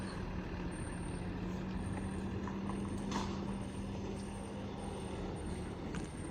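A vehicle turning along a curved road after driving through muddy water, its engine a steady, droning rumble with a faint hum running throughout, fairly close and unbroken, with no talking.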